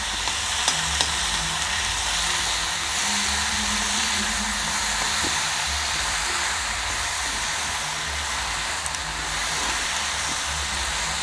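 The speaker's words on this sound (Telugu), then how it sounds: "ఇది కొంచెం ఫ్రై అయినాక టమాటా వేసుకోవాలండి" Radish chutney ingredients frying in a pan: a steady, dense sizzle close up with faint occasional stirring scrapes, continuous throughout with no talk.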